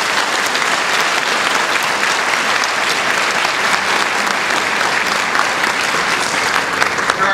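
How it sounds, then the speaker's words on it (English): Audience at a superintendent's start-of-school speech applauding schools, a dense, steady round of clapping from a large crowd that holds evenly at full loudness throughout. "Let's give them a round of applause."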